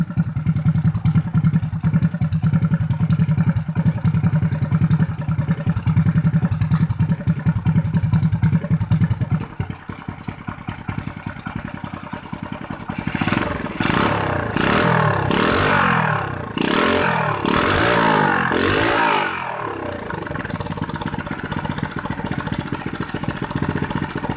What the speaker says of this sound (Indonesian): Nyalakan, kita coba geber-geber.